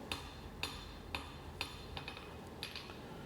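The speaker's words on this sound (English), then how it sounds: "So I'm forging a taper from the point back to the break-in angle" Hammer blows forging a distal taper on a hunting knife blade, a steady series of sharp metallic strikes about every half second, close and fairly loud.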